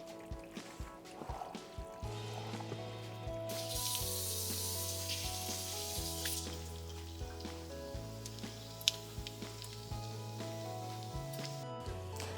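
Garlic cooking slowly in a pan on low heat, a faint continuous sizzle under steady background music.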